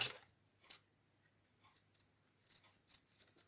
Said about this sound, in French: je vais venir couper donc ma dentelle ici